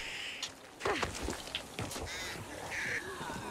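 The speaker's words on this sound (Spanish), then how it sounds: "Cuidado con los pájaros." Harsh crow-like caws from birds in the Xbox One X zombie shooter Back 4 Blood, several loud cawing calls scattered over the stretch amid game noise, with no talk.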